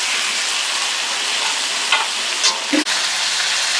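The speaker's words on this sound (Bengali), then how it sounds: "এই মশলা কিছুক্ষণ কষিয়ে নেব।" Ginger, onion and spice masala fry in a pan with a steady, close sizzle, broken by a few stirring scrapes near the end.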